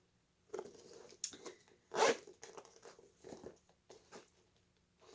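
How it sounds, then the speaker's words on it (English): A zipper on a vintage leather bag made in Toronto, Canada is pulled in several short strokes, close and fairly quiet, with small handling rustles between them. "there's a zipper, nice little zipper here"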